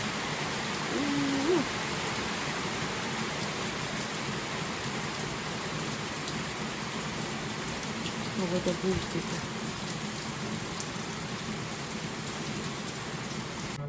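Heavy rain pours steadily on a day of nonstop downpour, a constant close hiss of drops on surfaces throughout, with someone speaking briefly over it.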